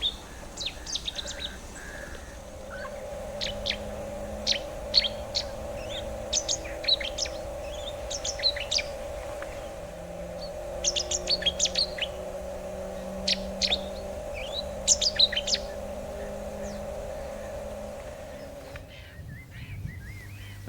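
A Cetti's warbler sings from dense undergrowth by a lagoon, its short, loud, explosive bursts repeating every few seconds over a steady low hum.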